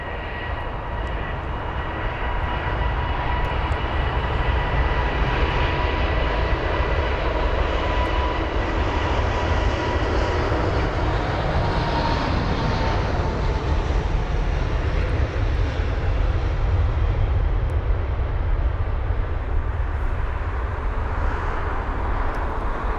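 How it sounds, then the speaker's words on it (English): A nine-year-old Emirates Airbus A380-800 jet at London Heathrow produces a loud, steady engine roar with a low rumble. The sound holds for the whole stretch and swells slightly near the middle. "This Airbus A380-800 with the reg Golf X-Ray Lima Echo Hotel, which is a 9-year-old jet"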